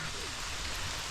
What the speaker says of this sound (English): we're supposed to have rain up until this afternoon